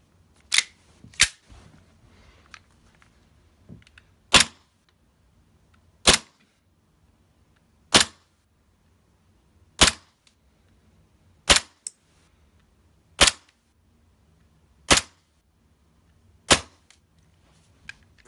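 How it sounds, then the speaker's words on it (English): Custom Glock 17 green gas airsoft pistol, a WeTech conversion with Tokyo Marui parts, firing BBs in about ten sharp, loud single cracks spaced a second or two apart, with quiet gaps between shots. "Next, we have my custom-made Glock 17 fully trademarked. Originally WeTech converted with Tokyo Marui parts. and again, a green gas magazine"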